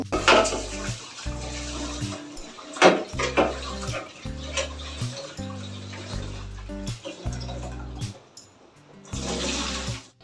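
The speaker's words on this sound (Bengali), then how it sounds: "চালটা আমি অনেক কবার ধুয়ে নিয়েছি" Rice being rinsed in water in a cooking pot at a home kitchen, with repeated swishing and sloshing of water and grains, metallic clinks of the pot between pours, and a running tap heard intermittently.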